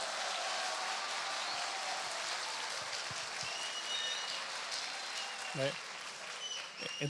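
Steady audience applause at a candidates' debate in Chile's O'Higgins region, a continuous wash of clapping filling the whole stretch, with a few brief voices near the end.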